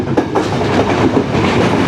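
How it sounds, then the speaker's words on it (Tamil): A passenger train on the Colombo to Jaffna line in Sri Lanka roars past close by at speed, a loud steady rush with rhythmic clickety-clack from the wheels. "இந்த ட்ரெயின் வந்துட்டு வெகு விரைவாக போய்கொள்ளும்."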